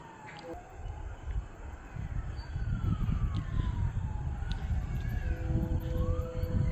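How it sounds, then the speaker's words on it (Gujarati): Police siren sounded for a citywide blackout drill in Bhavnagar, Gujarat, a wailing tone that rises and falls over a steady low rumble of outdoor noise, heard at a moderate distance and with no talk. "આપ પોલીસ ખાતા દ્વારા સરકારશ્રી દ્વારા સાયરનનો અવાજ સાંભળી રહ્યા છો"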